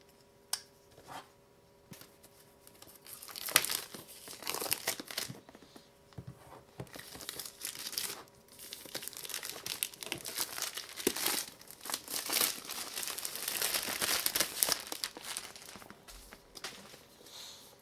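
Cardboard box packaging of a Zhiyun Smooth Q gimbal being opened, with close crinkling, crumpling and tearing of card and plastic in irregular bursts, with occasional soft handling thumps and no talking.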